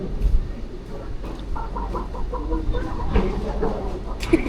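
Someone imitates a chicken at a Kelantan beach spot, giving a run of short, nasal clucks over an outdoor background of chatter and ambient noise.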